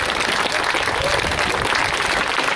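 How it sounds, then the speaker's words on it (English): An audience gives a sustained round of applause welcoming a Green councillor to speak at a public event, dense, steady clapping filling the whole moment with no break. "A big round of applause, please."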